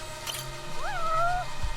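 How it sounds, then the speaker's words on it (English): A single cat meow in the video game Judgment, a short rising then falling cry heard clearly over faint background game sound. "I heard that meow around here"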